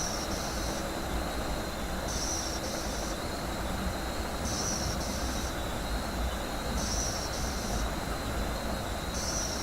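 A train running the Northeast Corridor between Boston and Providence in Train Sim World keeps up a steady rumbling roll, with a high tone that recurs every couple of seconds over it.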